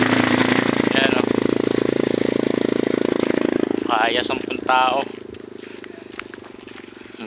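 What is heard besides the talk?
motor fitted with wings, ultralight aircraft engine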